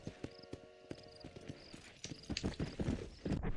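Horse hooves clip-clop in Red Dead Redemption, a steady walking rhythm of sharp, close hoof strikes that grows busier and louder toward the end, with a brief whinny-like tone early on.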